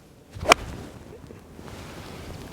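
A single soft, muted strike of a forged Titleist golf iron on a ball, a brief crisp click followed by quiet outdoor background.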